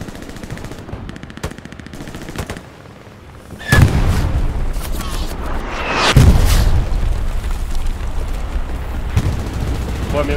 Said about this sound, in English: Bombing run, bombing run.